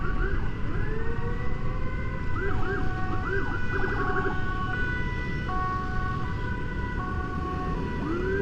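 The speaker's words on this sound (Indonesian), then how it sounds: "Ambulan." A wailing ambulance siren sweeps up and down repeatedly, close and loud over steady traffic rumble.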